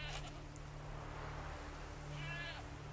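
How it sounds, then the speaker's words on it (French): A goat bleats inside The Witcher 3, a short wavering call heard once at moderate distance over a steady low game ambience and hum. "Ah, j'entends la chèvre."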